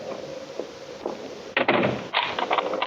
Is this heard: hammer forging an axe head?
no